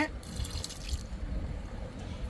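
Homemade liquid carrot fertilizer is poured onto the soil of potted rose plants in a terrace garden, a soft steady trickle and splash close by with light background noise.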